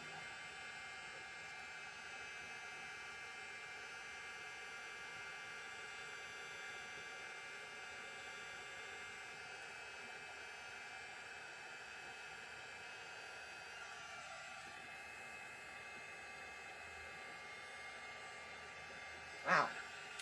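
A heat tool blows over a handmade Marauder's Map craft piece to heat-set it. It makes a steady, faint, airy whoosh that holds evenly throughout, with a short sharp click near the end.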